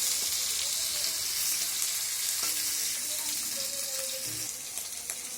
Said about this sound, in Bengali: মাছ ভাজার জন্য সর্ষের তেল গরম হয়ে গেছে তেলটা ভালো করে গরম হয়ে গেছে ভাজার জন্য এখানে তিন পিস মাছ দেওয়া হয়েছে